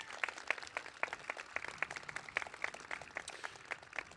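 Sparse, faint applause from a small audience at a high school commencement ceremony, individual claps rhythmic and distinct, heard from a distance.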